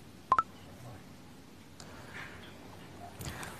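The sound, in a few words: telephone being dialed to call grandfather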